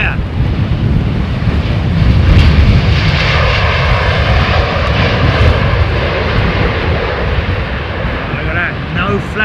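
A Boeing 777 jet airliner at London Heathrow Airport roars loudly and steadily, its engines thundering close by along with wind buffeting the microphone, while people talk over it.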